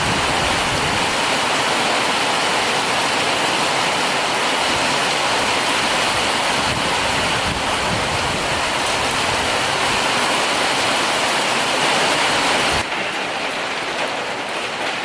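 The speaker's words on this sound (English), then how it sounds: "The rain's coming in sideways." Heavy torrential rain roars steadily and loud, a dense unbroken wash of water with no voices, easing slightly in tone near the end.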